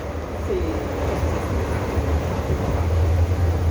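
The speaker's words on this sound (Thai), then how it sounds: "ทางลงครับไม่มีหลังคานะครับ แล้วก็ลงมาครับ ลงมาเลยนะครับ นี่คือสถานี สนามใจนะครับ" Low rumble and steady hum fill Sanam Chai underground metro station in Bangkok, with a train's drone rising slightly toward the end amid busy station ambience.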